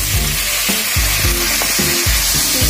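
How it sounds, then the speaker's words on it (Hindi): Three large tomatoes fry in a pan for a Mughlai chicken Changezi, giving a loud, steady sizzle broken by regular scraping stirs about every half second, with no voices. "जब तक टमाटर नरम नहीं हो जाता है तब तक इसको हम लोग ऐसे करके फ्राई करेंगे।"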